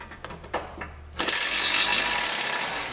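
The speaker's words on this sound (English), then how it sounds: "Got the little nut driver." A small ratcheting nut driver clicks a few times, then a fast continuous ratcheting whir runs close and steady for about two seconds, with no talk.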